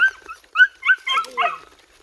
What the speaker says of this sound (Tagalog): May aso ko.